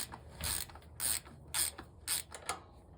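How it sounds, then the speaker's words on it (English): Ratchet wrench clicking in quick bursts while tightening carburetor mounting bolts on a Briggs and Stratton V-Twin engine, about six short rhythmic runs of ratcheting heard close up with no talk. "you can just take your ratchet wrench right here"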